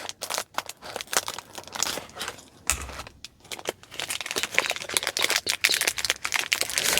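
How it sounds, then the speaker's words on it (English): Plastic packaging crinkles and crackles up close in irregular bursts, with a brief quieter pause partway through. "'cause I know crinkling is not for everyone"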